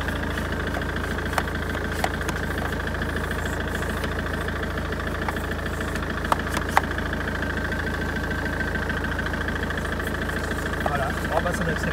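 Citroën C5 from 2008 idling steadily with a constant low engine hum and faint mechanical ticking, close by and continuous, with a few brief clicks over the running engine.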